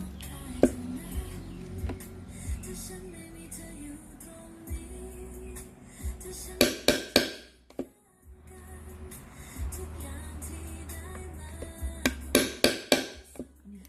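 Sharp metallic hammer taps set rivets into a bag made from fabric-softener pouches, ringing out in short clusters, a few isolated strikes then rapid bursts of blows, close by against a quiet workshop background.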